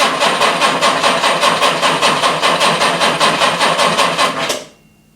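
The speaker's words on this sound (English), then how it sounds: "Okay, so the ignition is on and we're going to start cranking now." An original starter motor on a Jaguar E-Type cranking a cold engine, a loud, even, fairly slow rhythmic churning of about twenty regular beats that stops abruptly.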